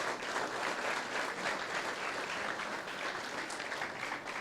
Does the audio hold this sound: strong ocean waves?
no